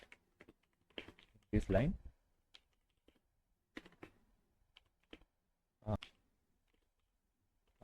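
Someone types Python code on a computer keyboard in short bursts of quiet clicks separated by pauses, with someone speaking between the keystrokes.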